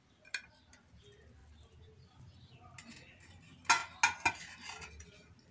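A knife cuts a piece of warm, pudding-soft stale-bread blender cake, giving a faint scrape and then a few sharp clinks of metal against a dish near the end, in a quiet kitchen.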